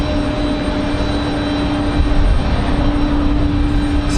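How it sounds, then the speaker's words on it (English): An Airbus A220 airliner taxis at Raleigh-Durham airport on a windy day, a steady, loud jet engine drone with a constant whine, continuous throughout without speech. "It's got an A220 on the move."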